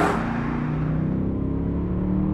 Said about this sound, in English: I love the sound. I mean, the free-flowing exhaust system, it's fantastic.